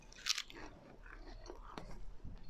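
Close crunchy biting and chewing on a pancake spread with jam, a sharp bite near the start followed by softer, wet munching sounds, with no talking.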